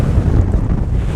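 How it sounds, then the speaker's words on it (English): Wind buffeting a microphone outdoors by the water during fly fishing, a loud continuous low rumbling roar with no other sounds standing out. "that wind."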